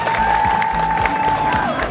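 Crowd applause for the President at a public event in Nyakafuru, Mbogwe, where electricity was brought to small-scale miners. Steady massed clapping with some cheering runs throughout, with a sustained tone sounding over it.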